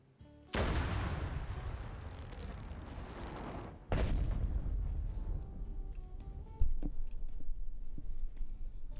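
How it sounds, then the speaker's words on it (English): Ion cannon fire in a Star Wars video game: heavy, booming blasts, one at the start and another a few seconds later, each trailing into a rumbling roar, then a sharper hit near the end. "ion cannon"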